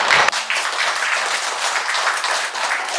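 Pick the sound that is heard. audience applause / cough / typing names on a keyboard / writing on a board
audience applause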